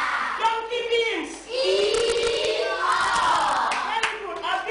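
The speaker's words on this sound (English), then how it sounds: "A big clap." Group of children clapping and cheering together in a classroom, a burst of scattered hand claps mixed with excited kids' voices, loud and close, with adult talk around it.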